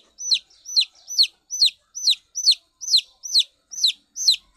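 Baby chicks give loud, close, high-pitched peeping chirps, about ten evenly spaced calls in a steady rhythm with no talk.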